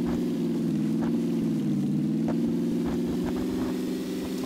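Vehicle driven in PUBG, a constant low engine drone that holds a steady pitch throughout, loud and close with faint clicks over it.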